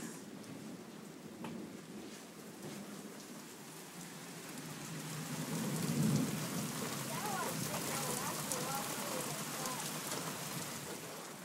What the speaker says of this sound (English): As soon as the storm's over.